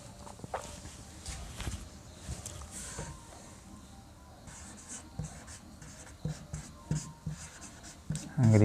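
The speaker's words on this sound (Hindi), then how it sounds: "इसी क्रम में लिखते चलें।" Chalk or marker taps and scratches on a board during a classroom grammar lesson, with short irregular strokes, fairly close, mixed with a voice talking quietly.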